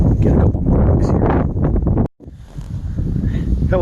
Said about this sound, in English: It's been really windy, cold.